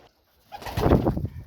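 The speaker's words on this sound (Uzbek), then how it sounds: "Kaptarlaringiz zo'r ekan. Kabutarlar." Pigeons in a breeder's loft coo close by in a short, throaty burst that rises after a moment of near silence and rolls on in soft, overlapping calls.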